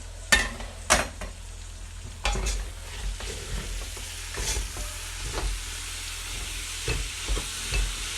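Spinach and meat with onions sizzle softly in a pan as a spoon stirs and scrapes, giving intermittent clinks and rustles over a low, steady frying hiss.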